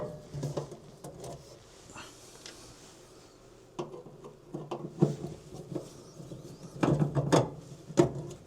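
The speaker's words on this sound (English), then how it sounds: "now we're going to go ahead and start removing these screws" Screws being taken out of a mobile home furnace panel: irregular metallic clicks, ratcheting ticks and light clanks, close by and sparse at first, then busier taps and rattles toward the end.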